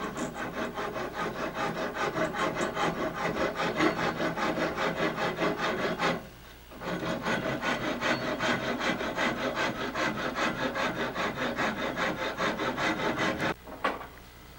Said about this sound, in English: what he's doing now is rasping down where the ear sticks out that he got glued on yesterday